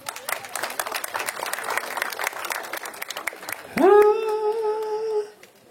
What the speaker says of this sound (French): Vous applaudissez pourquoi?